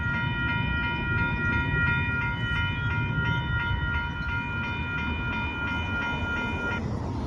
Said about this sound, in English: that was awesome to see a super late Amtrak train go by like that